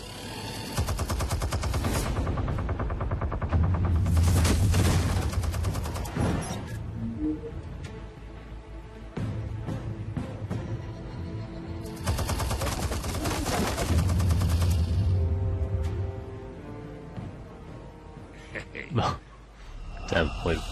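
Bursts of rapid automatic gunfire from an auto turret in Batman: The Telltale Series, two long loud volleys separated by quieter stretches, with voices and other game sounds in between.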